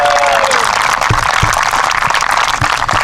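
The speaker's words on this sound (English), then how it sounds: "Let's give them a round of applause." A senior night crowd at a Christian school applauds senior athletes, a dense burst of clapping with a faint tonal squeal at the start, loud and close throughout.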